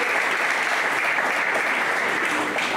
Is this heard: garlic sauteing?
no